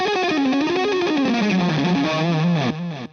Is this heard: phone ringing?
no